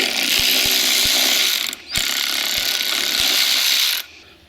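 A ratchet wrench with a Torx T50 socket turns a door latch striker on a Ford Crown Victoria. Loud, close metallic clicking runs in a steady rhythm, with a brief pause midway and a stop near the end.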